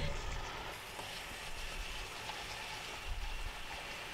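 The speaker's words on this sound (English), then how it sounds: "I'm going to run some water on the rice" Running tap water pouring over rice being rinsed before cooking in a rice cooker, a steady close hiss and splash of flowing water with faint shifting gurgles, no voices.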